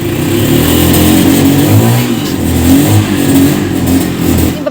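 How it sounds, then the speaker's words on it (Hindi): A family car's engine revs loud and steady close by as it pulls away from a home, a continuous throaty drone with slight swells and no talk over it. "पापा गाड़ी लेके जा रहे हैं।"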